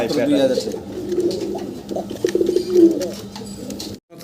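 Pigeons at a bird market give low, throaty cooing calls in short rolling bursts, fairly close, with voices talking in the background.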